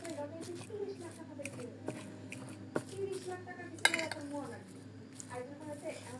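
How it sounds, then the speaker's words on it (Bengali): A fork grating boiled potato and egg for homemade burgers, heard as a string of light metallic scrapes and clinks against a plate, close and fairly quiet, with soft speech-like murmurs and kitchen noise underneath. "আমি এই কাঁটা চামচ দিয়ে গ্রেট করে নিলাম, সহজ পদ্ধতি একবারে"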